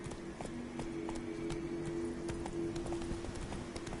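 Roach, the horse in The Witcher 3, gallops with quick, steady hoofbeats over a sustained tonal background, heard close and fairly loud for a few seconds with no talking.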